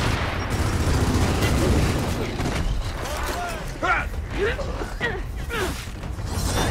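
Automated turrets firing in Gears of War 4, rapid bursts and mechanical clatter amid a dense combat din, with character voices speaking over the fight.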